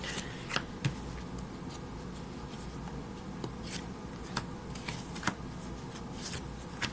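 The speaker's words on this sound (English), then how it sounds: "Give this one more shuffle." A deck of tarot cards is shuffled up close: soft, continuous riffling and papery flicking with scattered crisp snaps, quiet and steady for several seconds with no talking.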